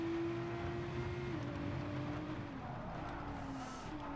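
A race car engine in the F1 22 video game drones steadily at a fairly constant pitch, heard from the cockpit view, moderately loud with slight pitch shifts and no talk.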